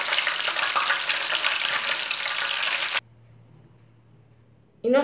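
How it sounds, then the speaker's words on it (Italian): Battered zucchini flowers fry in hot oil with a loud, dense crackling sizzle for about three seconds, then cut to near silence before a brief burst of noise returns. "vanno a friggere gli altri fili di zucca."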